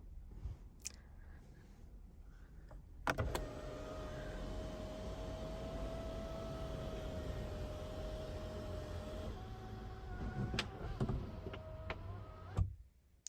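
A car's panoramic sunroof motor runs with a steady, even whir for about ten seconds, starting and stopping with soft clunks, close by inside the cabin.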